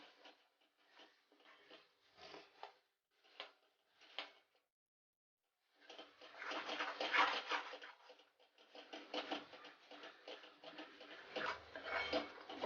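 A thick spice paste is stirred and mixed in a pot, the spoon clinking and scraping in short separate strokes at first, then in quiet, busier stretches of scraping and tapping.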